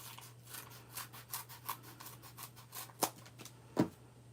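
Scissors snipping paper for a handmade card, a steady run of soft, close rasping cuts, two sharper snips near the end, over a low constant hum with no talking.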